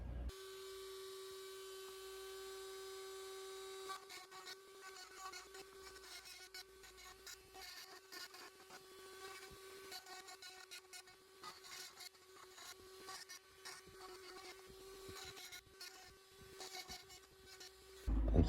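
A rotary tool fitted with a 561 cutter carves a small wooden cat figure, a steady high whine with scratchy, irregular grinding bursts as the bit bites into the wood.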